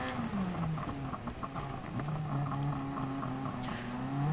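Race car engines, including a Toyota Tundra TRD Pro and a Renault Sport Megane Trophy RS, in a Gran Turismo 7 race. Continuous revving with pitch sweeping up and down as gears shift, close and steady.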